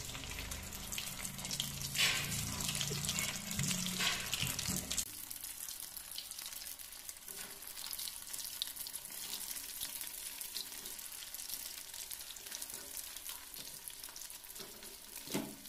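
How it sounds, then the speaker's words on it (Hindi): Soya chaap sizzles steadily in oil over a low flame, a dense, even frying hiss that runs the whole time with no talking, louder and busier during the first few seconds. "इसको लो फ्लेम पे फ्राई करना है तो चलिए इसको अब डालते हैं"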